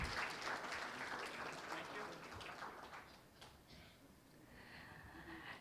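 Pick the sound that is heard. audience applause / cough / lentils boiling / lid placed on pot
audience applause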